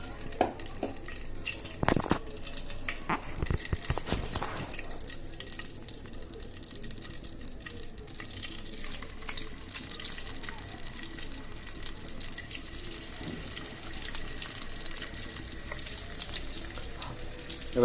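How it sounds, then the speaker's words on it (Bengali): Small fish frying in oil in a wok, a continuous hiss and crackle heard close up. Clattering handling noises come near the start, then an even sizzle carries on without talk. "এবার আমি মাছগুলো ভেজে ফেলবো"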